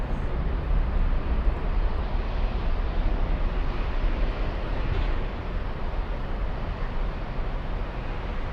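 Aircraft at Frankfurt airport, a loud, steady broadband engine roar and rumble that holds for several seconds with little change.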